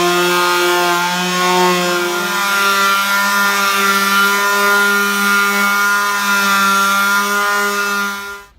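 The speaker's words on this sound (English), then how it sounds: "For me, a little palm sander is all I've ever needed." A small palm sander works over a wooden desk being prepared for latex paint, giving a loud, steady buzzing hum that holds for several seconds before winding down at the end.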